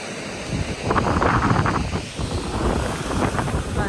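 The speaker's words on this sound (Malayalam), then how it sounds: "നല്ല തണുത്ത കാറ്റടിക്കുന്നുണ്ട്." Cold wind gusting at a beach at sunset, a steady broadband roar with surges that may carry surf, loud and close on the microphone with no voices.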